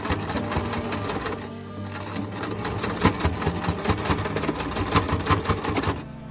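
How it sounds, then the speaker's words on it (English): A sewing machine stitches corset straps together in a steady, rapid mechanical rhythm, loud and close, running almost continuously with a brief slowdown partway through. "I sewed the straps together."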